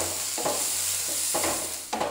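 Chopped onion with ginger and garlic sautéing in a pan for an egg-stuffed paratha filling, a continuous close sizzle with a few spoon-stirring scrapes at regular intervals; no talking.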